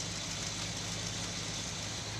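A Scrambler's engine idles cold and rough, threatening to stall, as a continuous low mechanical drone with a steady, slightly uneven throb and no voices over it.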